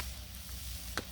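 Chicken and vegetables sizzle steadily on a Blackstone griddle while being stirred, a continuous close frying hiss with one brief sharp scrape of the spatula near the end.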